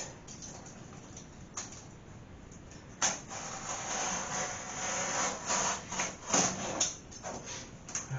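A piece of cardboard is trimmed during a broken toilet flange repair: a quiet start, then from about three seconds irregular scraping and rubbing strokes, close and moderately loud, with no talking.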